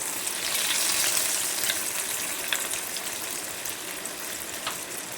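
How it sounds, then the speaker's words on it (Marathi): Fish cutlets fry in hot oil in a kadai with a rushing, hissing sizzle that swells early and then settles, broken by a few sharp pops and crackles. "मी तेल तापत ठेवलेलं आहे कढईमध्ये त्याच्यात हे एक एक तळायला घालणार आहे"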